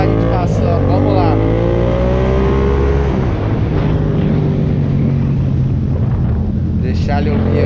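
A modified Yamaha MT-07 motorcycle rides past, its loud engine drone falling in pitch as it goes by, then settling into a lower, steadier rumble.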